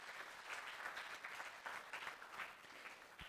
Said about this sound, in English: Can we give them a loud hand clap?